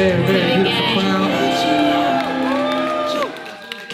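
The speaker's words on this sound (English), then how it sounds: "let me hear y'all make some noise" A concert crowd cheers, whoops and shouts loudly and continuously, a big sustained roar of many voices that eases slightly toward the end.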